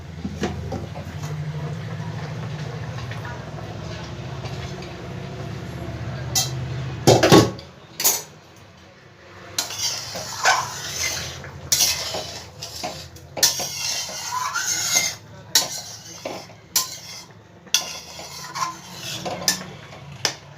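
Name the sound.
opening the lid of a cooking pot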